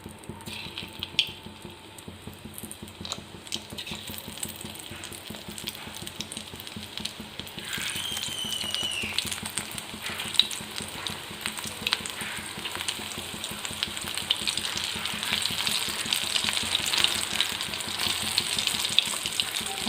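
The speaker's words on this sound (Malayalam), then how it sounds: "ഓയിൽ നന്നായി ചൂടായതിന് ശേഷം നമുക്ക് ഈ പാവയ്ക്ക ഓരോന്നോരോന്നായി ഇട്ട് കൊടുക്കാം." Bitter gourd pieces drop into hot oil and fry with a continuous crackling sizzle, quieter at first and growing denser and louder after several seconds, heard close with no talking.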